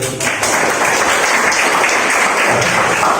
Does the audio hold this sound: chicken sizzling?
no